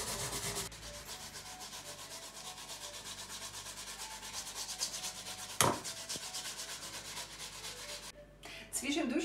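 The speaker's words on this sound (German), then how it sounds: "wir fangen an jetzt mit Reiben" Potatoes are grated on the fine side of a hand grater for potato pancakes, giving a steady rhythmic rasping scrape of repeated strokes, close and fairly quiet, with a sharp knock midway and no talking.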